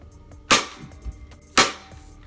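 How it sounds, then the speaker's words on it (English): A Dart Zone Ranger toy blaster fires Rival foam rounds twice: two sharp, close pops about a second apart, each with a short mechanical clatter. No voices, only a little handling noise between the shots. "And you can in fact fire Rival rounds."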